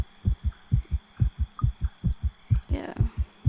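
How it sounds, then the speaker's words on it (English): Heartbeat sound effect from the horror visual novel The Letter: a steady run of deep, loud double thumps repeating about twice a second, with a faint hum underneath and a brief soft rush partway through. "With my heart pounding in my ears, it takes a while to remember where I am."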